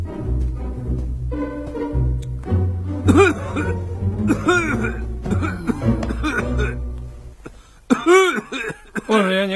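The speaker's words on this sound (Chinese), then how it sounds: "万岁爷，您咳嗽醒了哈？" An emperor in a Chinese period TV comedy-drama coughs and clears his throat several times at night. The coughs come as harsh, close bursts, and people speak around them.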